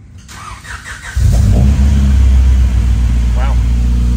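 A rebuilt Honda Civic VX B18C Type R engine fires on its first start after brief talk, then holds a loud, close, rough rev that stays strong to the end.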